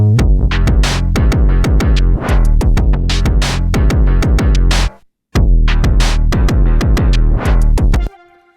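Punchy synthesizer beat with a locked-in bass groove, steady repeated hits filling the low end, loud and solo, with a brief drop-out midway before the pattern resumes.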